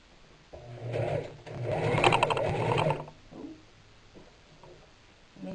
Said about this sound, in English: seam lays flat under the presser foot as you're sewing